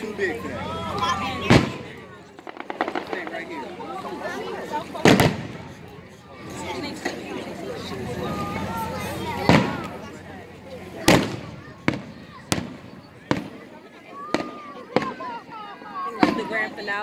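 Fireworks burst one after another, sharp loud bangs with crackle between them, people talking and calling out in the background.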